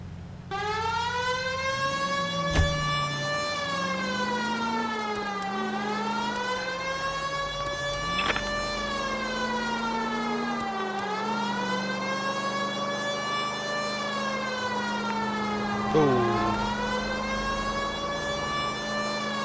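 A wailing siren in the video game L.A. Noire rises and falls continuously in long sweeping cycles, loud and steady, with a few sharp clicks along the way and no voices.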